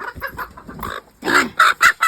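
Hens clucking in a run of short, bright bursts, a few softer calls followed by louder, closer clucks near the end, with no talk over them.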